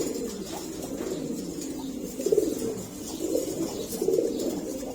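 A breeding pair of pet pigeons coo in low, rolling bursts, a few louder calls rising over a steady close murmur of cooing.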